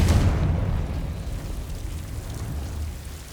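Confringo spell blast in the Hogwarts Legacy video game: a loud, rumbling fiery burst at the start that decays into a long low roar and crackle.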